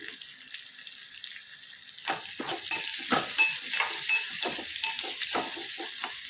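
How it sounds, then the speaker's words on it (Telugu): Onions frying in a pan with ginger garlic paste and turmeric, a steady hiss of sizzling that rises midway as scraping stirs begin, repeated strokes close by with no talking. "ఇప్పుడు ఉల్లిపాయ అల్లం వెల్లుల్లి పేస్ట్ అన్నీ వేగిపోయినాయండి"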